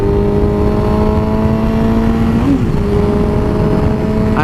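A Suzuki GSX-R 1000 sport motorcycle engine runs with a steady, loud, close tone and gives one short rev blip partway through, with no talk.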